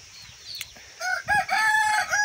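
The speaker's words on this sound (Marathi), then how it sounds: "या आपल्या इकडे कोंबड्या भरपूर असे पिल्लं आहे आपल्याकडं" A rooster crows loudly and close by on a farm yard full of hens and chicks, after a softer stretch of clucking, with no talking.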